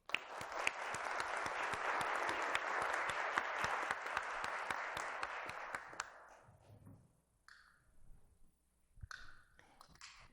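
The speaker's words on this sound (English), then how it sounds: "Join me with a round of applause to welcome our 3 panelists, Joan McCarthy, Barb Quinn, and Clare Walsh." Audience applause welcoming three panelists at an Ignatian spirituality panel event, steady clapping from a room of people for about six seconds that fades out, followed by scattered faint sounds and brief distant voices.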